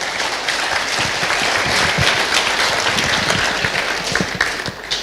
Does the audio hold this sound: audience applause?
yes